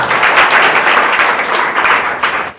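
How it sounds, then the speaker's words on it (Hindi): A room of students claps loudly for full marks in a mock test, a short, dense burst of applause close by. "फुल में फुल मार्क्स के लिए जोरदार तालियां हो जाए।"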